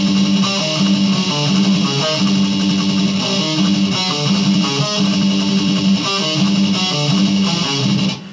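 Distorted electric guitar playing a riff pattern twice, a loud, dense, driven rhythmic figure that repeats steadily throughout, with no voices.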